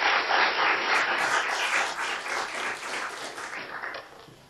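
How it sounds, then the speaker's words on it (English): An audience at a lecture on racism and discrimination claps to welcome the presenter, a full burst of clapping that gradually tapers off toward the end. "I'm surprised when people clap before they listen to the presenter"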